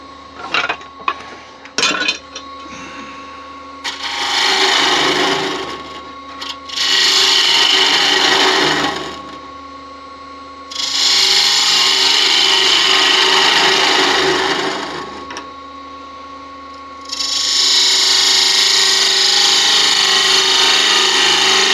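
Mulberry wood snowman being hollowed on a lathe: three long bursts of loud hissing cutting, each lasting a few seconds with pauses between, after some brief knocks at the start.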